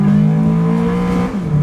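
A car engine fitted with an aftermarket intake revs hard as VTEC engages, a loud close roar that holds, then drops off near the end of the short burst, with no talking.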